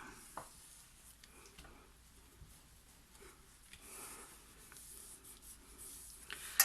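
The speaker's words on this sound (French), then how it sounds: "Et là, je viens coller" Soft, faint rubbing and scraping as paper is glued and pressed down in a handmade Christmas album, quiet and continuous with a few light taps.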